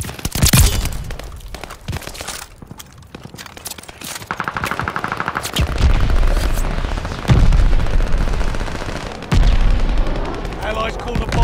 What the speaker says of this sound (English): Allies called a bombing run.